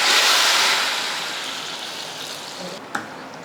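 Hot onion and curry leaf tempering is poured into sambar, setting off a loud, broad sizzling hiss that slowly fades, with a brief clink near the end.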